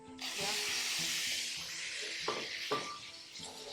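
Half a pound of chopped, cleaned, deveined shrimp hisses and sizzles in a hot pan, a loud steady frying hiss with a few soft stirring knocks close by and no voices.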